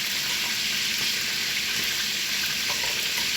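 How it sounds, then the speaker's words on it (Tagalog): Chicken pieces fry in a pan of hot oil, giving a steady, even sizzling hiss that continues unbroken and fairly close throughout. "Habang nakaprito yung chicken"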